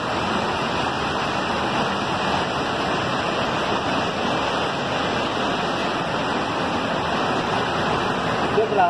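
Water rushing at a waterfall, a loud, steady broadband roar that fills the whole clip up close, with no break or change in level.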